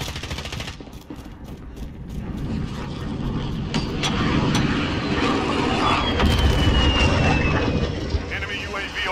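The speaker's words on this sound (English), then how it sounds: "Enemy VTOL jet inbound." An enemy VTOL jet roars overhead in a modern first-person shooter game, its engine rumble building and swelling over several seconds, with bursts of gunfire and players talking underneath.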